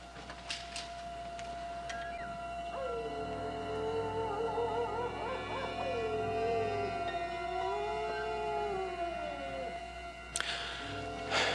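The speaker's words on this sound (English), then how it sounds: "A wolf is supposed to howl 3 times." A single long wolf howl in a Western TV series scene, rising and wavering for several seconds over a quiet outdoor background, fairly distant and alone.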